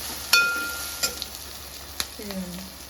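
Fresh curry leaves hitting a hot pan of oil, a low crackling sizzle with a few sharp spatters and stirring scrapes, close and fairly quiet.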